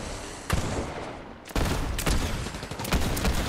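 Video game gunfire crackling in rapid bursts, a loud volley near the start followed by sustained dense shooting with sharp individual cracks standing out, no voices.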